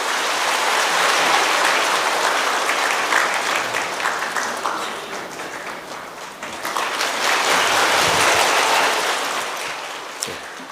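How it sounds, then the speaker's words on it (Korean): A church congregation at a Korean Sunday service applauds warmly, a dense, sustained clapping from many people that swells and eases slightly over about ten seconds. "우리 뜨거운 박수로 환영하겠습니다."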